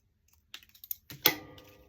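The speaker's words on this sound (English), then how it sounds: "And I'm going to cut it again in this corner." Scissors snip the corner off a paper card in a craft setting: a few quick, light clicks followed by one crisp, louder cut, close up with nothing else heard.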